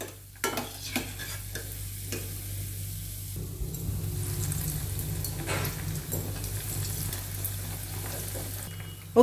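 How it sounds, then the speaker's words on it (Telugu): Bread pieces fry in a pan of hot fat for bread halwa, giving a steady close sizzle broken by a few clattering stirs and scrapes. "ఇదే విధంగా మిగిలిన బ్రెడ్ ముక్కలన్నింటిని కూడా ఫ్రై చేసేసుకోవాలి."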